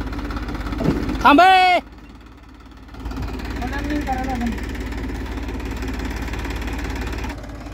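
A tractor hitched to a trolley loaded with stones idles with a low, steady rumbling hum. A voice calls out briefly near the start, then the engine carries on alone at a constant level.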